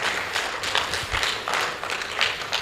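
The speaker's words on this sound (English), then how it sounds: "a warmer round of applause" Steady clapping from a business convention audience, a dense broadband patter that swells slightly in waves throughout, fairly close and loud.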